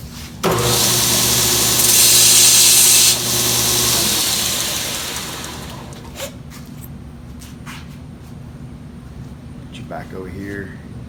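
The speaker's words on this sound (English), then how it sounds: "we'll sharpen the tungsten real quick" A tungsten electrode for TIG welding is sharpened on a spinning grinder, a loud sustained whine and grind lasting a few seconds before spinning down, with softer workshop clatter afterward.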